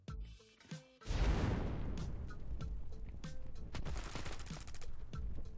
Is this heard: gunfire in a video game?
yes